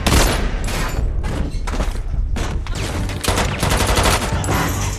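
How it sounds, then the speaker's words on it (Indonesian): Gunfire in a film shootout at a harbor between troops and terrorists: dense, continuous bursts of shots and fusillades, loud and close, filling the whole stretch without speech. "Dan terjadilah baku tembak antara pasukan Kelly dan kelompok teroris itu."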